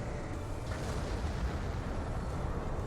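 Starship cannons fire in the video game Star Trek Online, a steady rumbling barrage of deep blasts that rolls on without pause for a few seconds, moderately loud.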